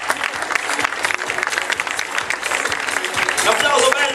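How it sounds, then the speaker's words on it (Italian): An audience at a Yamamay fashion show in Diano Marina claps steadily along the runway, dense continuous applause with a voice talking over it and music-like tones near the end. "ragazzi, un applauso grande"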